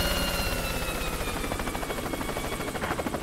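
Helicopter in the video game Worms W.M.D, a steady rapid rotor chop with a faint whine, moderately loud and continuous without talk.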